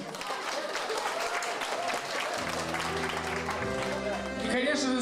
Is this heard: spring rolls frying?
no